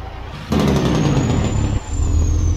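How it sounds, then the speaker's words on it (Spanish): Old diesel truck hauling fuel uses its engine brake with a turbo. After a quiet start, a loud, close, rattling roar kicks in and holds, dips briefly, then resumes, with a thin whine above it. "¿Qué tal el freno motor y el turbo? ¿Cómo suenan de rico estos camiones viejitos?"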